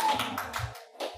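Audience clapping at a comic con panel comes in a few short, uneven bursts that rise and fade over about a second, fairly close and with no talking.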